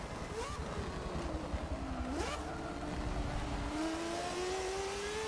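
A race car engine in the GT racing game Forza 7 drones faintly and steadily, its pitch dipping and then climbing as it accelerates.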